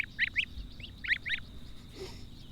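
Geese calling in a few short honking bursts, grouped in pairs and spaced apart, moderately close in a quiet outdoor setting.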